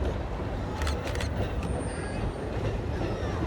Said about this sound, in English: the simply magnificent Western train.